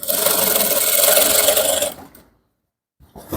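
A sewing machine whirs steadily at close range for about two seconds while top stitching over a rope waistband on trousers, then stops and falls briefly silent before another short burst begins.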